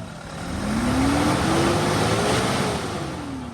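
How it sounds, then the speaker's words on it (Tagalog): Car engine revved high in the workshop, a rising then falling tone that climbs, holds and eases back down over a few seconds, close and steady with no talk. "Pinarevolusyon ko ang makina dahil kapag tumaas ang RPM ay mawawala ang fuel knock nito."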